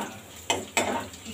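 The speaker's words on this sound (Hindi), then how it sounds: "एक लाल मिर्च और ऑनियन कट करके डाल दी हूँ।" Sliced onion and a red chili sizzling in hot tempering oil with fenugreek seeds, two sharp bursts of crackle as they are stirred or tossed in, close up, no voices.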